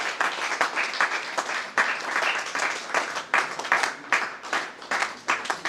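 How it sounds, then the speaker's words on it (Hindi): An audience at a Hindi literary book-launch event claps steadily for several seconds, a moderate, uneven wave of applause with no voices over it. "आप लोग तालियां बजा करके"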